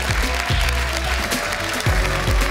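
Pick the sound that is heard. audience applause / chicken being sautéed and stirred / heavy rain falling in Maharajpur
audience applause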